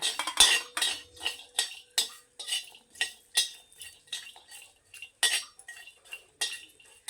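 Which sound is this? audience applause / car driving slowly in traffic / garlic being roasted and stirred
garlic being roasted and stirred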